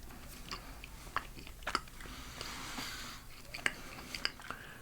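Oatmeal cookies being bitten and chewed up close in a quiet whispered ASMR setting, with soft crunchy bites and moist chewing at irregular intervals.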